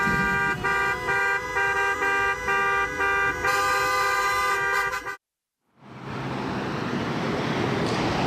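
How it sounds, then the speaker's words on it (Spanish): Several car horns honk repeatedly in a traffic jam at a toll plaza after a collision, sustained blaring tones that cut out abruptly and give way to steady roadway noise. "Hacían sonar sus bocinas los conductores."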